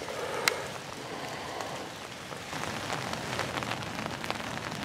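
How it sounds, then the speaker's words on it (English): Pouring rain falls steadily on a swampy Virginia hunting ground, a soft continuous patter of many drops on leaves and surfaces, fairly quiet and even throughout. "doing the best I can in this pouring down rain"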